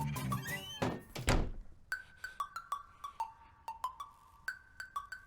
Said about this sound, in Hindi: तुम जाके वो दरवाजा बंद करो